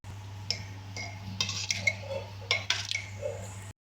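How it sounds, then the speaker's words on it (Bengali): Moong dal is mixed with tomatoes, green chillies and steamed bottle gourd in a bowl, giving several light clinks and soft scrapes in irregular bursts, close and quiet over a low steady hum. "এটাকে একটু মিশিয়ে নেব ভালো করে"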